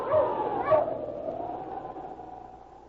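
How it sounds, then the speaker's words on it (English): A dog gives two quick yipping barks close by, the second higher and sharper, followed by a fading, ringing tail, heard alone in an old radio drama about a Yukon Mountie and his dog. "Sergeant Preston and his wonder dog King battled through storm and snow"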